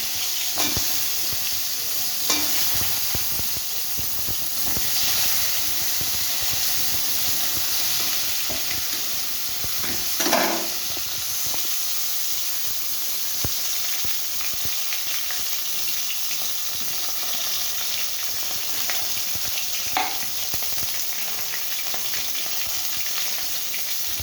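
Steady, continuous sizzling of green banana, ridge gourd and potatoes frying in hot oil with nigella seeds in a wok, with occasional scrapes and clinks of stirring.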